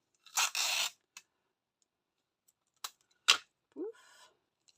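Blue adhesive tape is torn in a scrapbooking craft project, with two quick ripping bursts early on and a few sharp rips later, then a short squeaky stretch, all close and alone.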